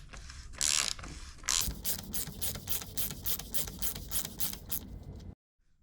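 Bike bottom bracket cup for a 30mm BB386 mountain bike frame being tightened with a 16-notch tool, a steady series of close, loud ratchet clicks in a regular rhythm that stops abruptly.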